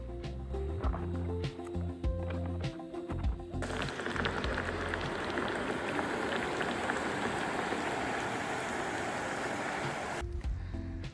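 Self-heating meal pack heating up after water is poured into its bottom compartment: a steady bubbling, fizzing hiss like boiling or rain, close and continuous for several seconds after a few knocks and clicks.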